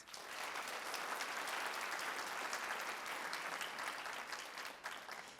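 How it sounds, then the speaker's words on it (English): An audience claps steadily at a senior honors night, a dense, even wash of applause that fills the whole stretch and tapers slightly toward the end, with no voices over it. "Let's give her a round of applause."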